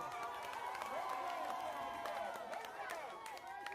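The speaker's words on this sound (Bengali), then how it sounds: "হাততালি, সকলে হাততালি দেন" A crowd at a village boat race prize ceremony claps and cheers in a dense, continuous wash while whistles and voices ring out over the applause.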